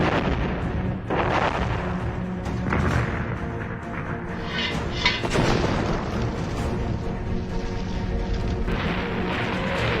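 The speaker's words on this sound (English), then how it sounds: "The Soviet soldiers crushed the city under the bombs." Bombs explode continuously as Soviet soldiers bombard a city, dense rumbling blasts and booms overlapping one another in a loud, unbroken barrage.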